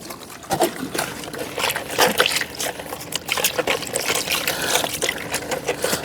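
Fresh drinking water is poured for the pets, making a close, uneven splashing and trickling that comes in bursts for several seconds, with no voice over it.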